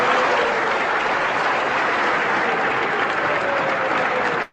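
Lecture audience applauding steadily and fairly loudly for the whole stretch, a dense wash of many hands clapping that cuts off abruptly at the end, with no talking over it.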